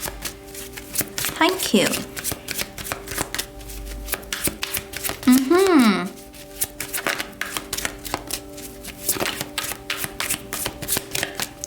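Tarot cards being shuffled, a steady run of quick riffling flutters across the whole stretch, close and fairly loud, with a few spoken words in between.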